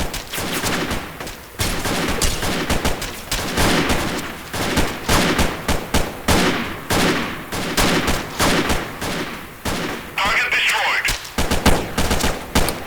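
Gunfire in the shooter game Freeman: Guerrilla Warfare: dense, loud volleys of rifle and machine-gun shots in irregular bursts throughout, close and sustained, with a faint voice now and then among the shots.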